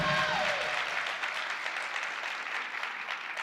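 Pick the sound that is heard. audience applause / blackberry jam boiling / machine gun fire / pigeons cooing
audience applause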